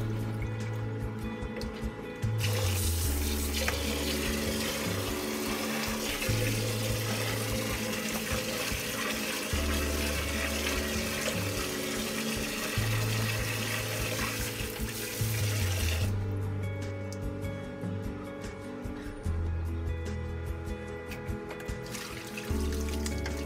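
Beach sand being rinsed clean under running water for use in an aquarium, a steady close rush and splash of flowing water over the grains that carries on through the whole stretch with only brief dips.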